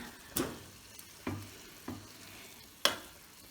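Garlic fries in a pan with a soft, steady sizzle, punctuated by four distinct scraping stirs spaced about a second apart, with no voices.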